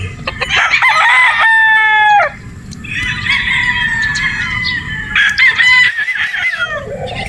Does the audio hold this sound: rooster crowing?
yes